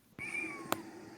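A shy outdoor cat gives one close, clear meow that rises and falls, with a short sharp knock near the end and no voices.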